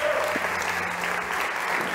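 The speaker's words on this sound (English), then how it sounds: "big applause to our judges" Audience applause for the judges at a startup pitch competition, a steady dense clapping from a crowd that runs through the whole stretch at an even, fairly loud level.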